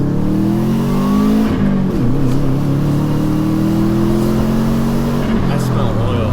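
Subaru WRX turbo engine revving up through the gears, with sharp dips between shifts before climbing again, loud and close throughout, with a voice briefly under the engine noise.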